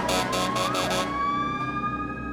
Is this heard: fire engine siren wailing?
yes